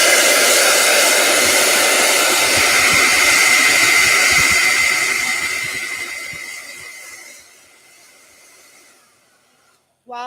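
A hair dryer blows steadily on wet watercolor paint, a loud close whooshing roar that holds for several seconds, then winds down and fades to near silence before a brief click at the end.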